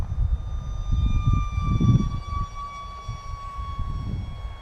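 A UMX Habu radio-controlled model jet whines overhead through a fast aileron roll, its steady high-pitched ducted-fan tone sliding slowly downward as it passes, over gusty outdoor wind rumble.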